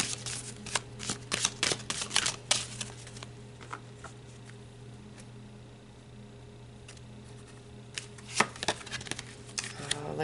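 Tarot cards are shuffled by hand and drawn, quick papery riffles and flicks coming in bursts near the microphone, with a lull of faint room hum in the middle before more card handling.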